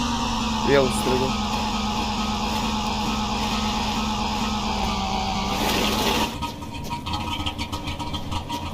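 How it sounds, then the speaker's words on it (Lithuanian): A car stuck in desert sand runs with a steady, droning engine note that strains for about six seconds and then drops off, while people talk nearby. "Vienu žodžiu, mano mašina įstriuko į smėlį."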